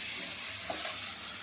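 Onions fry in a pan while an egg curry is being cooked. A faint, steady hiss of sizzling oil continues throughout, fairly quiet, with no talk.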